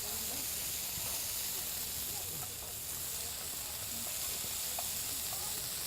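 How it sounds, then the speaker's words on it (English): Beef browning in a pan for Scottish beef collops, cooked outdoors at a Celtic festival in Estes Park, giving a constant loud hiss of sizzling fat with faint stirring, close by and without pause. "So we got our meat here. We're just browning it up a little bit."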